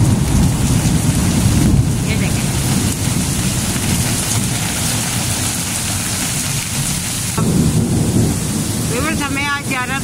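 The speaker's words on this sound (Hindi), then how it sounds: "पर ये देखें बारिश ने हमें रोक लिया।" Heavy rain pours steadily in a US town, with a loud close roar and rumbling thunder swelling at moments, and a brief chirping sound near the end.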